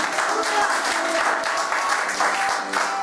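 A church congregation claps and cheers in praise of Jesus, sustained dense applause with a steady rhythmic beat filling the room at close range.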